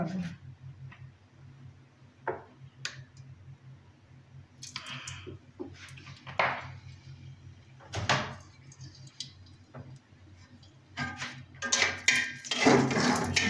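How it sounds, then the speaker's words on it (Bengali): A knife chops dried red chillies on a board in sparse, light taps that grow louder and closer together toward the end. "শুকনো মরিচ কুচিয়ে নিচ্ছি"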